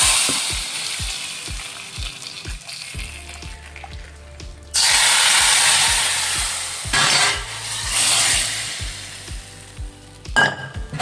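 Hot tempering of dried red chillies, cumin and curry leaves poured into a tangy lentil and raw tamarind rasam, giving a loud burst of sizzling that flares midway, with steady metallic clicking and scraping running throughout.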